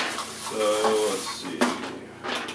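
An Instant Pot ladle, rice paddle and measuring cups being handled, light plastic clatters and knocks close by in a short burst with a few scattered taps.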